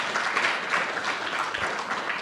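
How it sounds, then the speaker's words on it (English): Steady applause from an audience thanking the Gurukulam staff at a course conclusion, dense clapping filling the whole moment without pause. "Give a big round of applause to them."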